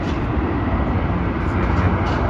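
Steady broadband roar of a Xiamen Airlines jet landing at Melbourne airport, a continuous loud rumble holding level throughout without breaks.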